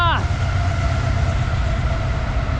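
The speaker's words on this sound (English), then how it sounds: "Why does the train keep coming by every dang time I decide to turn my camera on?" A train rolls past a bayou canoe trail, its steady low rumble and the hum of the rail cars filling the air, with a brief horn at the start.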